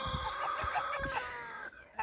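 Chickens cluck and murmur in a somewhat untidy backyard pen, a steady close chorus of short fowl calls overlapping across the moment.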